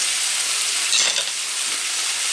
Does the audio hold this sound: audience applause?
no